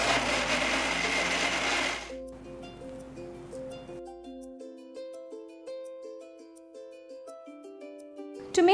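A kitchen mixer grinds shallots, green chilies, garlic and ginger into masala paste, a loud steady whir for about two seconds before cutting off, followed by quiet background music.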